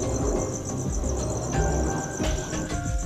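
Crickets chirp in a dense, continuous trill inside a monitor lizard enclosure, close and fairly loud with overlapping pulses and faint background rustling, no talking.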